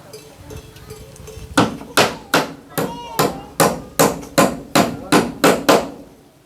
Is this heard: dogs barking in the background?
no